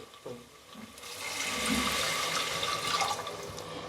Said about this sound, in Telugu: ముందుగా కాసుకున్న శంకు పూలు నీళ్ళు ఒక గ్లాసు